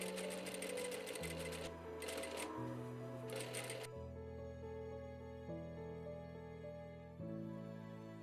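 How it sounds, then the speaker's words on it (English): A sewing machine runs steadily, stitching two rows of stay stitches along the neckline edges of a dress, its motor hum shifting pitch in several sustained segments with a rapid needle chatter early on, close and loud with no talking. "I start by sewing 2 rows of stay stitches along the edges of the neckline to prevent them from"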